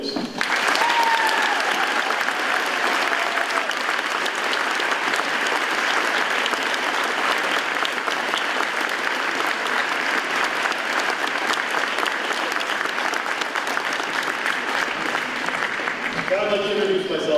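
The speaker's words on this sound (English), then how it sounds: "Please, let's have a round of applause for these individuals." A Veterans Day audience gives a long, sustained round of applause for veterans, loud, dense clapping that holds steady throughout and tapers slightly at the very end.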